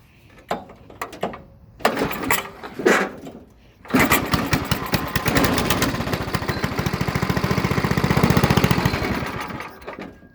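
A few pull-start attempts and sputters, then a small, old, cold Briggs and Stratton engine catches and runs with a loud, steady chugging drone.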